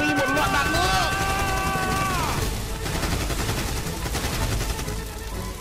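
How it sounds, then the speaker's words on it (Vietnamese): A burst of rapid gunfire crackles in a loud, dense rattle across several seconds, over a busy, noisy background with a rising high tone at the start. "Cho Mi một loạt đạn nữa."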